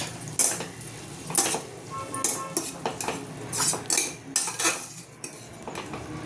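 Meal maker soya chunks tipped into a pot while cooking tomato rice, with a spoon clinking and scraping against the pan in irregular bursts, close and moderately loud, with no talking.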